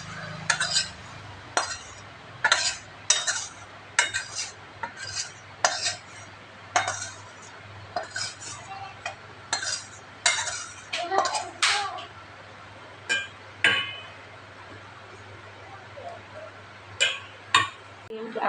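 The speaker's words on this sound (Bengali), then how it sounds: "এবার আমি এটা গরম গরম একটা বাটির" Hot tel potol, pointed gourd cooked in oil, is spooned into a serving bowl. A metal spoon clinks sharply and repeatedly against the dishes in an irregular rhythm, close and clear over a low background hum.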